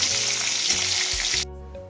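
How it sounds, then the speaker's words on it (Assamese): Fish pieces fry in hot oil with turmeric, producing a steady close sizzle that cuts off abruptly after about a second and a half, leaving near silence. "মাছ ভজা হৈ গ'ল, ভাজি ল'লোঁ।"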